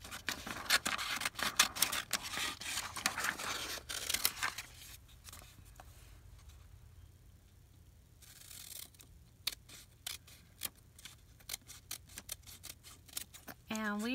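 Scissors snipping paper word stickers, a dense run of crisp cuts and rustling paper close by, a quieter pause midway, then sharp rapid snips again.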